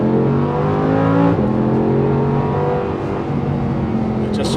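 An Audi R8 LMX V10 engine revs hard after a downshift to second gear, a loud, steady, tuneful drone heard from inside the car, shifting pitch briefly at about one and a half seconds, then pulling on without talk.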